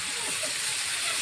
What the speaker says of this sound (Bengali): এখন আলু ভাজা হচ্ছে, পরে মাংস দেওয়া হবে।